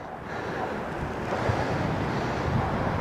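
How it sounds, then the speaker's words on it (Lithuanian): Strong wind buffets the microphone in a dense, continuous roar with low rumbling gusts and no voices. "Vėsu, vėjas."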